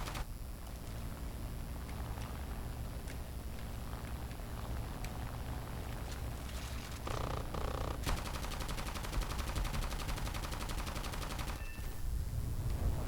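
A Ki-61 fighter plane's machine guns fire in an arcade air combat video game, rapid rattling bursts that grow denser toward the end over a steady, loud engine drone.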